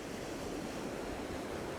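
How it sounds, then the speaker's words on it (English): Ocean surf breaking and washing around a groyne at dusk, a steady broadband rush of waves with some wind noise over the microphone and no distinct individual crashes. "Luckily, the waves are coming up around this first one."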